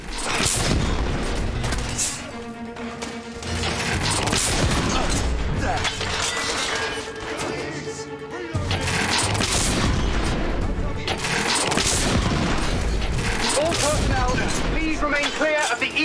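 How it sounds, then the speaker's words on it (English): Heavy artillery fire from the TS-22 cannon in The Order: 1886, near the east end of Westminster Bridge: repeated deep booms and gunfire bursts layered into a dense, loud, continuous barrage with mechanical clatter. "We are witnessing heavy artillery fire at the moment."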